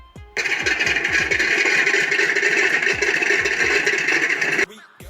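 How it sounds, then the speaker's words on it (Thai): An electronic engine sound module on an RC T-28 model airplane fires up abruptly after a few light knocks, holds a loud, even engine roar for about four seconds, then cuts off sharply. "ผมติดตั้ง เสียงเครื่องยนต์นะครับ เป็นเสียงอิเล็กทรอนิกส์นะครับ"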